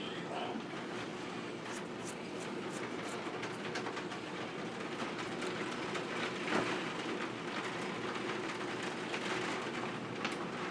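Steady rain pours down, a dense, even hiss with scattered drips and patters, continuous throughout and fairly loud.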